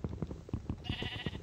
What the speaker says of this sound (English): Enough of the sneaky sheep.